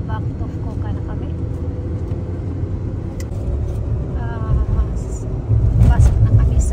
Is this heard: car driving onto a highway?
yes